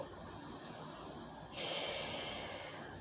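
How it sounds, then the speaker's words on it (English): A deep breath drawn in through the nose during a seated forward-fold stretch, soft airy breathing at first, then a louder, steady hiss of inhalation that lasts about a second and a half, close and alone. "Breathe in."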